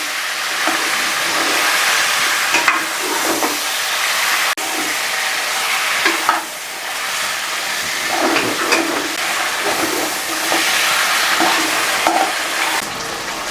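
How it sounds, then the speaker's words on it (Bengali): Spinach with spices is stir-fried in a pan, a continuous close sizzle broken by repeated scraping bursts of stirring, with no voices. "এরই মধ্যে শাক দিয়ে দেবো আর 2 মিনিট একেও খুব সুন্দরভাবে ভেজে নেবো,"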